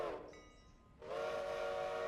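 A steam locomotive whistle in the game Railroader sounds in two blasts, a short higher toot and then a long steady tone, set against a dull rumble of rail noise.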